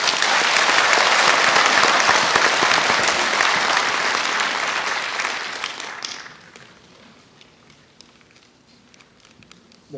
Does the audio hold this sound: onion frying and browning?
no